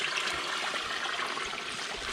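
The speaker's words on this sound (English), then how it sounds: "that right there is all the flow. So that's the total discharge from the Muddy Creek Reservoir right now." Water discharge flowing from the Muddy Creek Reservoir dam makes a steady rushing hiss that stays even and unbroken throughout, fairly close, with no voices.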